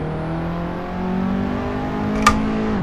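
Racing car engine in the Assetto Corsa sim holds a steady droning note with stacked harmonics, easing slightly then rising, with a brief sharp click near the end; loud and continuous with no voices.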